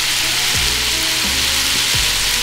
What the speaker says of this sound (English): Keep that right there and let that sear right there.